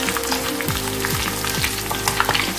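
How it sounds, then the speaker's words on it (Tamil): Green chilies fry in oil with a steady, dense sizzle and crackle, close and fairly loud, while a few low tonal knocks sound underneath and no one speaks. "இந்த பச்சை மிளகா வந்து எண்ணெயில் நல்லா இது மாதிரி ஃப்ரை பண்ணிட்டா"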